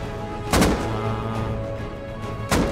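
Explosions in the survival game Rust boom out twice, two sharp loud blasts separated by about two seconds over a continuous low rumbling background.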